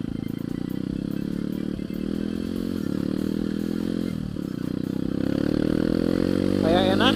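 Bored-up Kawasaki KLX motorcycle engine running steadily with a dense harmonic drone that rises slightly toward the end, mechanical clatter throughout and people talking over it.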